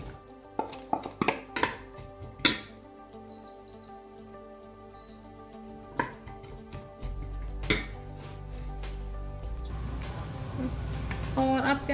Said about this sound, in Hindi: यहाँ पे मैंने थोड़ा सा ऑयल लिया है, बिल्कुल इतना सा, और इसमें डाल दूंगी मैं प्याज।